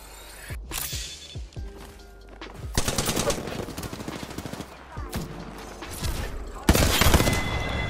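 Rapid bursts of automatic rifle fire and single shots crack through an Apex Legends Season 3 firefight, repeated volleys loud and close with brief gaps between them.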